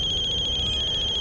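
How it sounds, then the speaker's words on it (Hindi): A telephone rings during a quiet domestic drama scene, a steady high electronic trill pulsing continuously at moderate volume over a low background hum, with no talking. "समदन जी का फोन है।"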